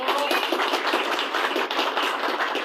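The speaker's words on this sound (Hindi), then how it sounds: "बहुत सारी तालियां होती हैं" Applause from an audience at a political rally for a party joining event, dense continuous clapping heard close and loud with no pause for its whole length.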